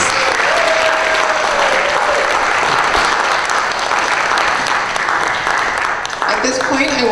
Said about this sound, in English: Big round of applause for these ladies, please.